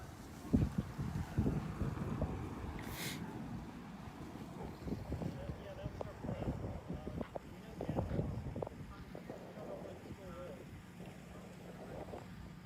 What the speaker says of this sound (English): That's because of that wind that continues to move in this area.